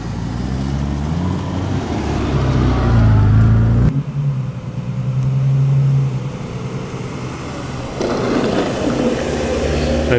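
MGB GT V8 classic with a 3.5 litre Rover engine driving past at a classic car show, a low engine rumble rising and swelling nearby, then fading back into outdoor background noise.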